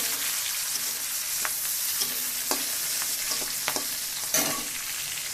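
Onion fries in mustard oil in a pan, a continuous close sizzle broken by several sharp scraping stirs of a spatula.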